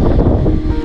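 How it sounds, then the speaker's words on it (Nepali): Strong wind at Glenelg or Henley Beach on the Adelaide coastline buffets the microphone with a loud, close, low rumbling roar that continues without a break. "काममा त छ के गर्नु हावा चलेर बर्बाद छ"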